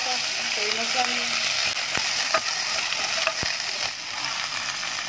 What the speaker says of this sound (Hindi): साथ ही लहसुन और कड़ी पत्ता डाल देंगे।